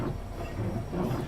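A Hitachi high-speed train in Train Simulator 2013, running from St Pancras to Faversham, rolls along with a steady low rumble and a faint hiss, close and even throughout.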